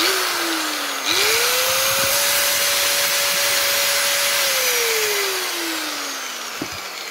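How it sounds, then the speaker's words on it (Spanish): A biscuit joiner whines up to a steady high pitch while cutting wood, holding for a few seconds before winding down, loud and close. "Estamos marcando para cortarla con la galletera."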